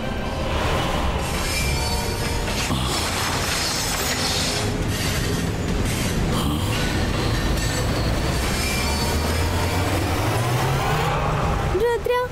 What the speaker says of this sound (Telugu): ఎలాగైనా సరే ట్రైన్ ఆపండి తాతయ్య.